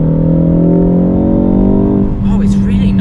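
A Ford Focus ST Mk4.5 facelift with a Mountune M330 upgrade revs loud and close at high, steady engine speed, then the note drops sharply into a downshift with a brief crackling blip near the end.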